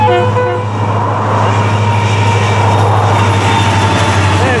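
An FEC freight train with tank and hopper cars rolling past at close range, a loud continuous rumble and hum of wheels and engine, with a horn toot early on; no talking.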